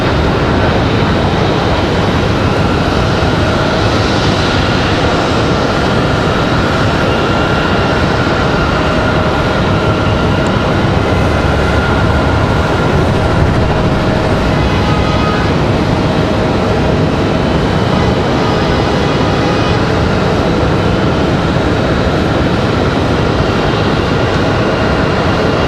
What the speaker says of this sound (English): There's our Toronto flight right there. Air Canada from Toronto CRJ.